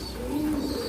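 Silkie lakka fancy pigeons coo continuously at a pigeon farm, a soft, low, rolling murmur that stays steady and close for the whole second, with no talking.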